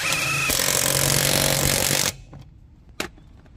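A budget, no-name cordless impact wrench bought on Amazon removes a lug nut with a loud, continuous hammering rattle that lasts about two seconds, then stops abruptly, followed by a single sharp click.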